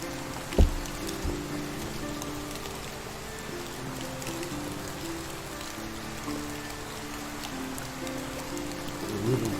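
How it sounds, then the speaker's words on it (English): Steady rain pattering through the woods in the video game Medieval Dynasty, a constant even hiss with one brief nearby thump near the start. "the rainy woods."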